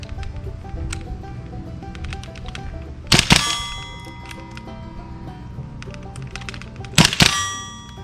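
A WE-TECH open-bolt M4 gas blowback airsoft rifle fires two separate sharp cracks several seconds apart, each followed by a brief mechanical clatter. Quieter clicks and handling noises fill the gaps between shots.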